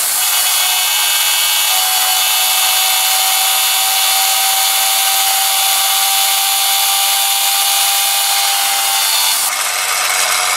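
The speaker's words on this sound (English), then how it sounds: "as you can hear, it's cruising, folks, and that right now is being powered by my invention called the Tromp Hammer." A compressed-air Tesla turbine powering an RC car gives a loud, steady high-pitched whirring hiss that runs unbroken, with a brief shift in tone near the end.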